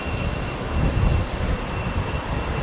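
Airliner engines running at an airport during pre-flight checks, a loud continuous broadband roar with a thin steady whine on top, no voices.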